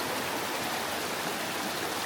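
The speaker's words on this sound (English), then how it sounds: "So this water, really pretty, I love the sound of it" A mountain stream in a state park rushes toward a lake with a steady broadband wash of flowing water. The sound is continuous and fairly close, and no one is talking.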